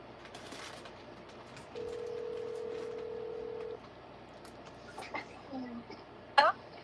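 A telephone call ringing out, a steady electronic tone holding for about two seconds, followed by quieter beeps and a brief chirp near the end, against faint background noise.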